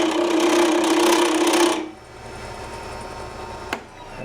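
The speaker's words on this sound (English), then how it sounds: "my cutting speed here, or lathe speed, is about 1900 RPMs" A wood lathe spinning a waste block at about 1900 RPM gives a loud, steady broadband whirring rush for almost two seconds. It then cuts off, leaving a quieter hum with a brief click near the end.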